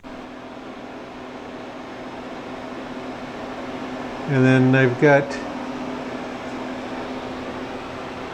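A home freeze dryer and its vacuum pump hum in a constant, even drone throughout, while a person speaks briefly over it partway through.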